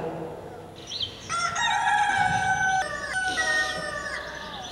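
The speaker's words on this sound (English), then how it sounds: "From somewhere on the walls a cock crowed" A rooster crows from somewhere on the walls, one long, loud, drawn-out cock-a-doodle-doo over soft background noise, with a brief cluck before it.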